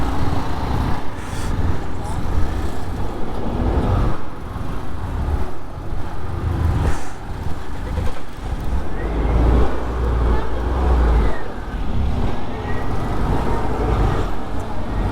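Steady road traffic rumble in a stalled jam near a bridge, with idling car and truck engines close around, heard from a motorcycle rider's position while a voice talks over the noise.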